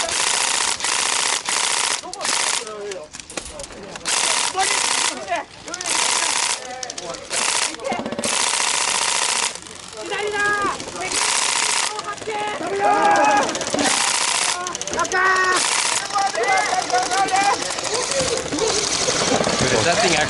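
Airsoft guns firing during an outdoor game, bursts of rapid mechanical clatter in bursts and single shots, some close and loud, mixed with players' voices.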